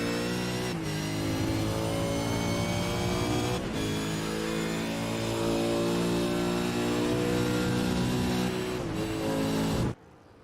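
Holden V8 race car in the iRacing sim, heard from onboard during a hot lap of Phillip Island: a loud, continuous engine roar with rising and falling revs and brief lifts around gear changes, cutting off abruptly at the end.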